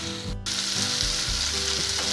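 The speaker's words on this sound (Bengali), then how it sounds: "আমি এবার এটা একটু ভেজে নেব সমস্ত অনাজগুলো," Chopped vegetables frying in a pan for a Bengali bottle gourd leaf chorchori, a loud, close sizzle with a low steady hum and a brief drop near the start.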